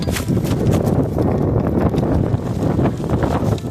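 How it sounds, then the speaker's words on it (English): Strong wind buffets the microphone outdoors, a continuous low rumbling roar with gusty surges and scattered bumps. "The wind's really against me today."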